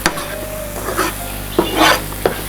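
Spice tempering sizzles and crackles in oil in a pan for curry leaf chutney, broken by a few sharp stirring scrapes, close and fairly loud, with no voices.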